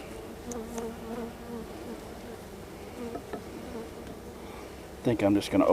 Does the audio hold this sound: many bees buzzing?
yes